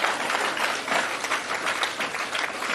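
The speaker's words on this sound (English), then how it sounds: "I want us to give these comrades a good round of applause" Political gathering audience giving a round of applause for comrades, a dense, moderately distant wash of clapping that swells and ebbs steadily without speech.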